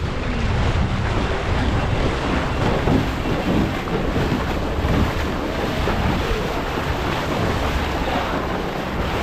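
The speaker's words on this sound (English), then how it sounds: "It's a cold breeze." Cold breeze at the beach, a loud continuous roar of wind buffeting the microphone mixed with surf washing in, steady throughout with no talking.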